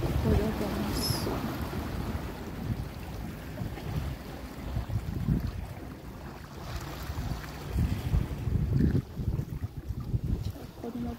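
Sea waves wash against the shore at Chabahar, a continuous surging roar with wind noise across the microphone, swelling louder in places toward the end.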